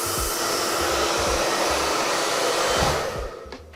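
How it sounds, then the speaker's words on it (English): A hair dryer blows steadily and loudly up close while drying hair during a haircut styling session, then its roar drops away near the end as it is switched off or moved. "I bring it to the opposite side and blow dry it there."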